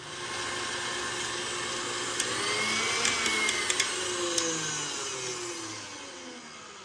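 Egg whites and vanilla are whisked to a froth for cinnamon sugar pecans. A mixer motor whirs continuously and fairly loudly, its pitch shifting slightly, with a few sharp clicks against the bowl midway.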